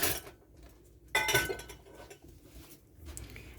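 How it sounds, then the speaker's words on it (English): A cooking pan being lifted off with dishes and cutlery clinking, a few sharp close metallic and glassy knocks in a kitchen, no talk. "I'm going to remove this pan right now"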